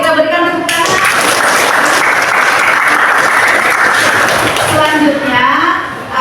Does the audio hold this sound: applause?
yes